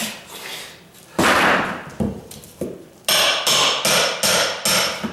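Oak floor planking is pried up during a condo rehab, with a series of sharp, loud hammer-like knocks and cracks, first spaced out, then in a quick run of about five evenly timed strikes near the end.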